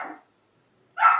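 A house dog gives two short, sharp barks from nearby, with a brief silence between them.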